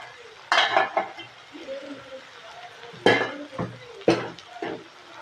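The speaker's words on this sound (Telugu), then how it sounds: "ఇప్పుడు ఒకసారి మనం మూత వేసి చూసుకుందాము." Metal clatters as a lid goes onto a pressure pan during frying: three sharp clanks spread a few seconds apart, close and loud, with low rattles and quieter stretches between them.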